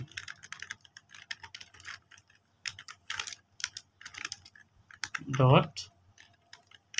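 Brisk typing on a computer keyboard during a math lab programming session, bursts of close clicking keystrokes with short pauses, plus a brief low tonal sound near the end.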